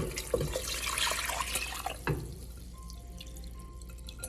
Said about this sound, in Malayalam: കോൺസ്റ്റാർച്ചിൻ്റെ സിറപ്പ് ഉണ്ടല്ലോ, അത് ഞാനിങ്ങനെ ഒന്നുകൂടെ കലക്കിയ ശേഷം ഞാൻ ഇതിനകത്തേക്ക് ഒഴിച്ചു കൊടുക്കുകയാണ്